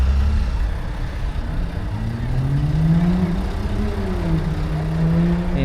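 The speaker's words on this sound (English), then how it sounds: "Here's a Citroen Traction Avant." A classic Citroen Traction Avant at an outdoor car show on a common, its engine running nearby with a low hum that rises in pitch as it revs over steady background noise.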